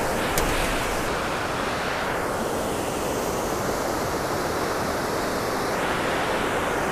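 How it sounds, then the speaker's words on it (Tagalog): A steady, loud rush of flowing water fills the whole stretch, a constant broad roar like a stream swollen after rain. "Malakas ng tubig ngayon kasi nag-ulan-ulan na."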